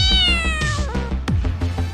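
A cat character in the Onmyoji game gives a clear, close meow with a falling, drawn-out tone, followed by short chirpy mews and soft thumps from the match.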